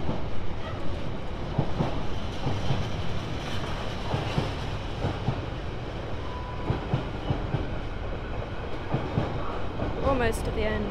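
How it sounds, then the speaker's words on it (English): A very long passenger train rolls past on the South Western Main Line at Basingstoke, carriages rumbling steadily with rhythmic clickety-clack of wheels over rail joints, fairly close and continuous, with a brief higher squeal near the end. "Wow, this is a very long train."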